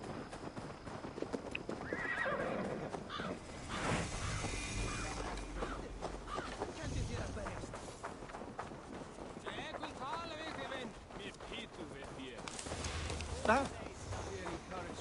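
Horses in the video game Assassin's Creed Valhalla: clip-clopping hooves and whinnying neighs amid game ambience, with voices talking over them.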